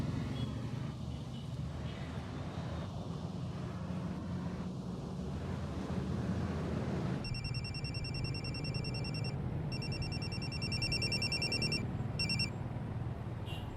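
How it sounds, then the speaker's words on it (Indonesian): A telephone rings while a call is being placed, a faint repeated electronic ring that starts partway through and pulses in short bursts over a quiet room tone. "Sebentar, saya telepon dulu bos Saeb"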